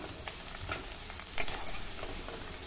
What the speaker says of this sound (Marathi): आता मध्यम आचेवर हा कांदा थोडा मऊ होईपर्यंत परतून घेऊ